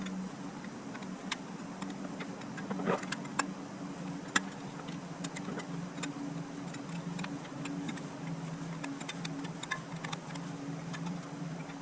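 Torque wrench clicking while tightening spokes on an XR500 motorcycle wheel, sparse light ticks and clicks scattered over a steady low hum, close and faint, with no voices.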